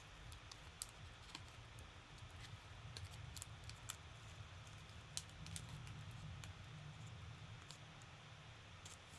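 Faint, sharp snips repeat at irregular intervals over a low, steady hum, quiet and close like small scissors cutting.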